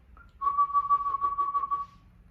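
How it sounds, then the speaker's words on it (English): A single steady whistled tone pulsed in fast staccato, with a low rasping throat noise clearly audible beneath each pulse. "You can hear the throat noise, and it's pretty loud actually"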